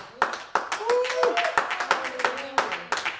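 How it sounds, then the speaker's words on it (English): Congregation clapping hands during a church praise service, sharp uneven claps scattered through the clip over voiced shouts and singing-like tones, fairly close and lively. "Somebody clap your hands"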